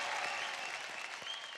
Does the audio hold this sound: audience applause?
yes